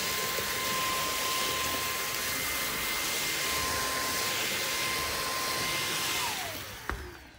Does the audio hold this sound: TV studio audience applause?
no